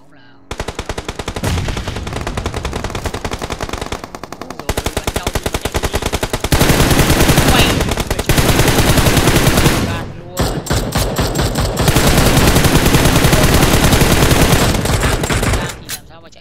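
Sustained automatic gunfire in the mobile battle royale game PUBG Mobile, loud bursts of rapid shots running almost continuously with brief pauses between strings, all close and dominant.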